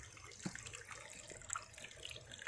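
Water overflows from a small dam, a faint continuous trickling and splashing flow with a few brief droplet plinks, heard at a distance with no speech.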